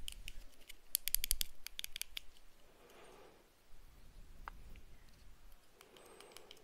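Volume buttons on a BlitzWolf BW-BH2 earhook headset are pressed, giving a quick cluster of sharp, close plastic clicks early on, followed by a few isolated clicks against a faint, quiet background.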